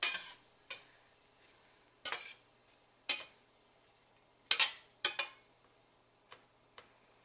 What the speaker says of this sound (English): We're going to cook these onions, I don't know, 3 to 5 minutes until they're translucent